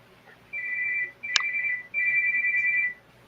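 A mobile phone rings in three bright, sustained electronic bursts with short gaps between them, clear and close against a quiet room.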